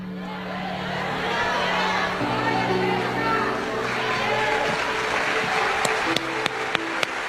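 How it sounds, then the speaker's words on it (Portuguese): A church congregation applauds at length, a broad continuous wash of clapping with crowd voices underneath, joined near the end by a few sharp, separate bangs. "Esse aplauso é para o Senhor Jesus"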